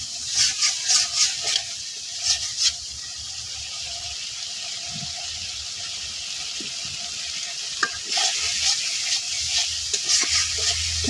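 A spice paste cooked down in hot oil and stirred hard in a pan, with bursts of rapid scraping at the start and again near the end over a constant sizzle.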